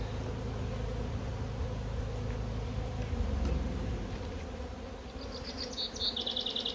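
Honeybees buzz around an open hive frame, a dense, steady drone close by with no talking and a few brief high chirps near the end.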